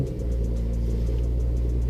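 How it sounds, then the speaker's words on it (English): An Audi B9 S4 fitted with an AWE exhaust idling on a cold start, a loud, steady, deep rumble heard up close with no break. "here's the cold start AWE exhaust for the B9 S4"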